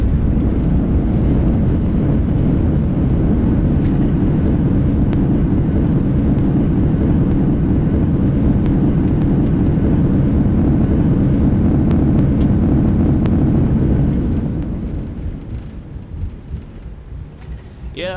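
An Airbus A340 lands in the X-Plane 11 flight simulator at Princess Juliana airport, a loud, steady roar of rushing air and engine noise that holds for about fourteen seconds and then fades as the jet slows.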